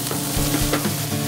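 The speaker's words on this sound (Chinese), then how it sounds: "新香料大火爆香" Spices and aromatics such as scallion, ginger and garlic sizzle in a hot wok over high heat before beef rib strips are added, a continuous close frying hiss with stirring.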